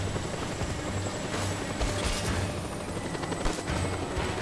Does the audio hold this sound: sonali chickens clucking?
no